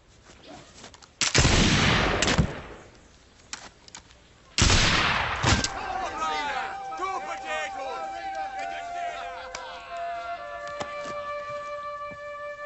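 Musket shots ring out: two loud, close blasts a few seconds apart, each with a long rolling echo, followed by faint crowd noise and scattered voices.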